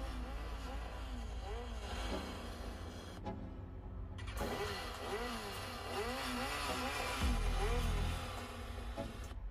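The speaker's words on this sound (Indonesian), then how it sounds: "akan mengeluarkan suara seperti sedang menstarter atau menghidupkan sepeda motor" A phone theme's motorcycle start sound: an engine cranks and starts, revving with a rhythmic rumble, pausing briefly, then firing up again and idling loudly close by.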